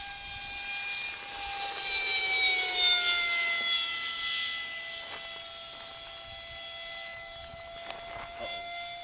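Tommy F16 electric RC jet passing overhead, a loud, steady whining drone whose pitch sags slightly as it passes, with no voices.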